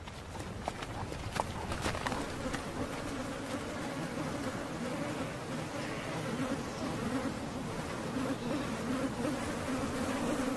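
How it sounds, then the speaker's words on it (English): Biting insects buzzing in the Alaskan wilderness under endless summer daylight, a dense steady hum with scattered close passes, fairly quiet and continuous. "More than 35 species of biting insects feast in the endless daylight."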